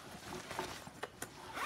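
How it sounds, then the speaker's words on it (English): A backpack zipper is pulled open in a few short, scratchy bursts, quiet and close, with small rustles of the bag's fabric between the pulls. "The zipper."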